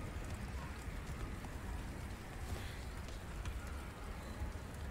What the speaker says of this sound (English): So, I'm being hailed on.